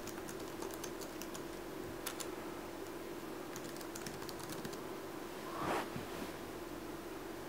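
Typing an email address and password on a computer keyboard to log in: faint, irregular key taps in scattered bursts over a steady low background hum.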